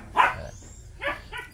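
A Belgian shepherd puppy gives two short, sharp yips or barks about a second apart, close and fairly loud over a quiet background hum.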